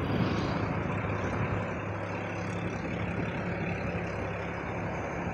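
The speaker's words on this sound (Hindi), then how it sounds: "ट्रैक्टर खींच रहा है अच्छे तरीके से" A tractor towing a broken-down Leyland 3718 truck with a burst tyre, a continuous loud low engine rumble and drone that stays steady and close, with no talk.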